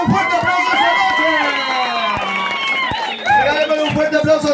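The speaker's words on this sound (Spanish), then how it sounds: "Regálame un fuerte aplauso esta noche." Crowd at a pupusa-eating contest cheering and shouting for the winner, a dense, loud swell of voices and whoops with some clapping, continuous throughout and briefly dipping before rising again.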